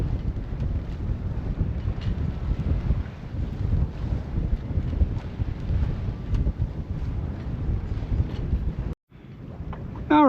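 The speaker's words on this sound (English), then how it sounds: "do a little bit more sailing. Because it's nice and cool out here with a nice breeze." Sailboat under way in a cool breeze off Mount Desert Island, Maine, with steady broadband wind rush and water noise buffeting the microphone throughout, a brief dropout near the end followed by a short tonal squeak.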